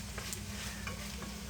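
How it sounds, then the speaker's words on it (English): Butter melts with breadcrumbs in a pan as Jamaican pie filling cooks, giving a soft, close sizzle with light stirring scrapes over a low steady hum, no talking. "So now I just added in my breadcrumb and my butter, and I'm just going to let the butter melt"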